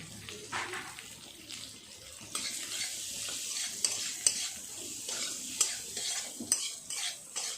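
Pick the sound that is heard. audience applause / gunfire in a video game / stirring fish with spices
stirring fish with spices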